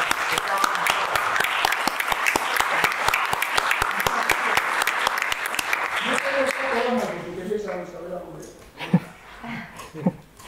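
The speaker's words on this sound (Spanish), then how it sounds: "ahora el aplauso a Yolanda" Audience at the opening of a comic festival in Avilés applauding, with sharp individual claps standing out over the crowd before the clapping fades, and voices start talking near the end.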